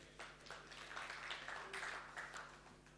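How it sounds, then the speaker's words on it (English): Scattered clapping from a small group at a remote gathering where a winner is announced, thin and somewhat distant, a few hands patting unevenly for about three seconds with faint background murmur. "you notice the clapping is kind of like, they won, I didn't"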